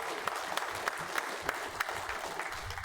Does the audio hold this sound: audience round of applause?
yes